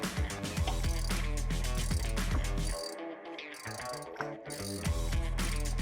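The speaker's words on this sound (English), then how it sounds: "Now I need to take out the 2 pins on the back." Rapid ratchet-wrench clicking while the brake caliper pins are removed from a BMW E9x M3, a steady loud run of ratcheting with a brief pause midway before the clicking resumes.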